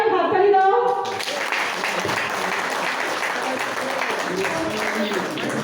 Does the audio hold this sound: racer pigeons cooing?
no